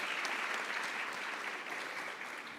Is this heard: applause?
yes